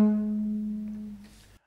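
A double bass plays a brief phrase of bars from Britten's Peter Grimes, one sustained bowed note that swells and then fades. The note is clear and solo, and it ends in about a second and a half.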